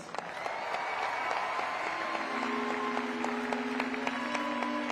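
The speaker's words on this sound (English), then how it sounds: "Please, round of applause for Pitcairn Islands." Steady applause from a large crowd at the FestPAC festival closing ceremony, dense clapping filling the whole stretch at an even level, with faint music tones ringing underneath.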